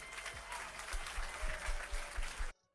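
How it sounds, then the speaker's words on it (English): An audience claps in a thin, scattered patter under a muffled room tone, ending abruptly partway through. "whoever's clapping is a moron"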